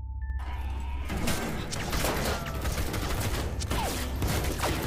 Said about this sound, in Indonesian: sambil diiringi dengan suara tembakan dari seseorang